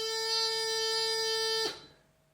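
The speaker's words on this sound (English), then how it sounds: "So first of all, I'll blow a nice clean tone." A bagpipe practice chanter is blown with a clean tone, holding a single steady, buzzy reed note for about one and a half seconds before it cuts off sharply.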